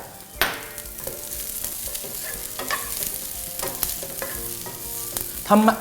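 Broccoli stir-frying in a wok sizzles steadily up close, with sharp spatula scrapes and clanks against the metal and a brief louder splash of sizzle near the end.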